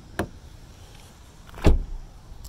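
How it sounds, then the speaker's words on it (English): Door locks on a Hyundai Venue actuate twice when the proximity key is pressed, giving two brief mechanical clunks about a second and a half apart, the second louder, in a quiet setting. "So from here, hit it once, locks everything up. Hit it once, unlocks just the driver's door."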